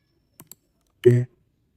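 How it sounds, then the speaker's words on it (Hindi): A mouse-click sound effect added in CapCut video editing software gives two quick, crisp clicks close together, followed by a short, louder tonal blip against near silence. "इसके लिए हम क्लिक का जो इफेक्ट होता है वो हम लगा देते हैं ताकि थोड़ा अट्रैक्टिव लगे।"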